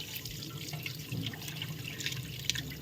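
Running tap water splashes steadily over dirty chicken eggs being washed by hand, a close, continuous trickle with small knocks and splashes throughout.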